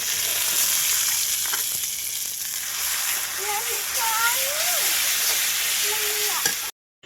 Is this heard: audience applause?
no